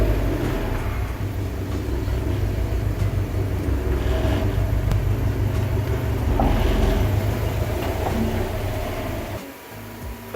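A Subaru STI idles and creeps at low speed into a garage, a steady close rumble of engine and exhaust that dips briefly near the end with no talk.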